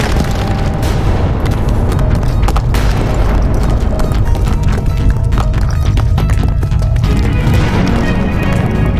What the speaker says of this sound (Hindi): ये तो पर्वत में विस्फोट हुआ है।